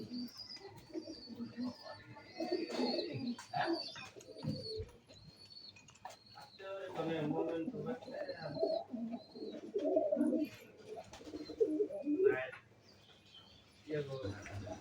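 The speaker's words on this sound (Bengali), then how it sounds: "কবুতরগুলো এখন ঘরে বসে আছে" Domestic pigeons cooing inside their loft on a pigeon farm, soft repeated coos and a few chirps mixed with scattered background voices and shuffling.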